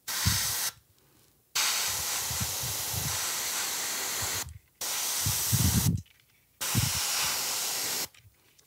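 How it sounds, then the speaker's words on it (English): An airbrush sprays thinned paint onto a large dragon figure in controlled bursts, a steady close hiss that starts and stops about four times with short silent gaps. "Careful not to spray up. This is a very controlled spray."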